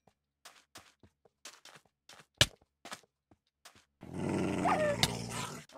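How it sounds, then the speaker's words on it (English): A dog growls in a video game, a dense rumbling snarl that swells up near and loud for the last couple of seconds after a run of quiet footstep-like taps and one sharp thump. "Oh, you stupid dog."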